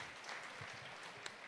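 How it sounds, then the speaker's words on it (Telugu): Faint, steady applause from an audience at an official public meeting, a soft continuous patter of many hands lasting the whole moment, distant and low in level. "వారందరికీ గట్టిగా చప్పట్లు కొట్టి"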